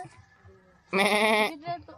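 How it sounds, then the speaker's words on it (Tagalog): A goat gives one loud, wavering bleat up close after a quieter stretch, followed by a shorter bleat, on a mountain trail at Mt. Oro, Rizal. "Daming kambing dito."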